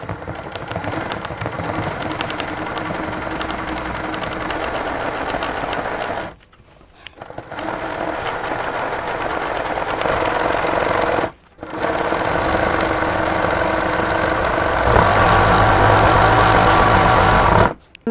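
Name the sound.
sewing machine doing satin stitch embroidery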